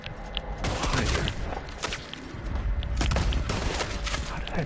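Gunfire in a video game, dense overlapping shots and impacts in a sustained loud barrage with brief lulls.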